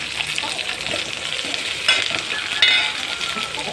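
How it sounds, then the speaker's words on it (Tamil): Onion and capsicum sautéing in a pan for ridge gourd gravy, a close, steady frying sizzle with stirring, briefly sharpening twice near the end. "வெங்காயம் நல்லா வதங்கட்டும் நல்லா வதக்கிக்கோங்க"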